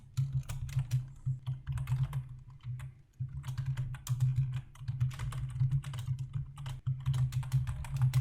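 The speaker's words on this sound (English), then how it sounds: "I type the name of the tag and press the tab key" Steady close typing on a computer keyboard, a continuous patter of soft key clicks with a brief pause partway through and a low hum underneath.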